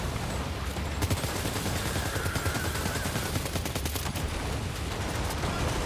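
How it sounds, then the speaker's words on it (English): Dense, continuous gunfire and explosions in the video game Death Stranding 2, a shotgun among them, with repeated sharp blasts running through a loud, sustained combat din for several seconds. "A shotgun."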